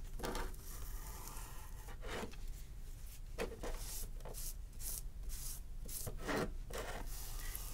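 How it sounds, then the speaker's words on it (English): Excess grout is wiped off the tops of tile coasters with soft, irregular rubbing and scraping strokes, close and quiet, with no talking. "And you just wipe the top until you get all of the extra grout off."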